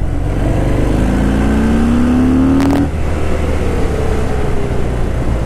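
Harley-Davidson Fat Bob with the 114 engine accelerating on the road, a loud rising engine note that climbs steadily, then a gear shift drops the pitch before it pulls again, close and continuous.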